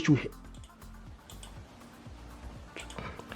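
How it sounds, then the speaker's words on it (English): Computer keyboard keys tapped in an irregular run of soft clicks while an email address is entered, quiet and close, with a brief louder knock at the start. "so type the email address of the person"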